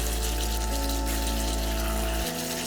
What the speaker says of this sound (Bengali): মিনিট খানেক কষিয়ে নেওয়ার পর আমি এবার ঝোলের জন্য পানি দিয়ে দেব